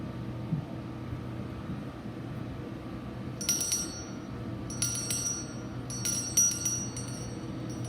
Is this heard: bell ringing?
yes